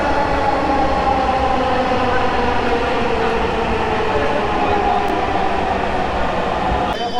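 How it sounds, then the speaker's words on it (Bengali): A metro train arriving at a station, a loud, continuous rumble and rolling clatter that stays steady throughout, with crowd noise beneath and a brief squeal near the end. "আমরা চলে এসেছি এখানে, মেট্রো চলে আসছে।"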